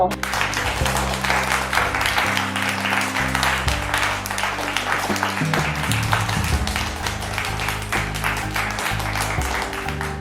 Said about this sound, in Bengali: তাই জোরে হাততালি হয়ে যাক সকলের জন্য।